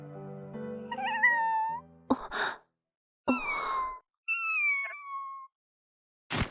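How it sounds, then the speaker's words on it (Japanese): A kitten gives several separate plaintive meows, crying for its mother cat, with quiet pauses between the calls and faint breathy sounds in between. "子猫が泣いてる。"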